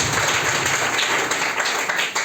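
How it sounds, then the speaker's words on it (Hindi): A group at a DXN meeting claps for a woman guest, a dense, even patter of many hands filling the room for a couple of seconds with no voices over it. "तो एक बार मैडम जी के लिए जोरदार ताली"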